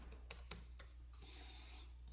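Quiet, sparse clicks of keys on a computer keyboard, a few separate taps spaced irregularly over a low hum, with a soft hiss near the end.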